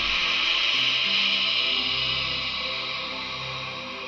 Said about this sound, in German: Dampf ablassen und Triebwerksbeleuchtung.